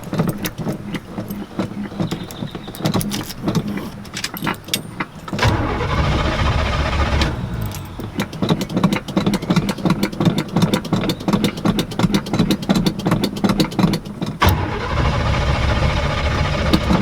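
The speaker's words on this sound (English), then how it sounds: "Let me try to turn on the truck." A bagged pickup truck's engine cranks over and catches, then settles into a steady, loud idle close by, with a brief pause in the rumble before it continues running.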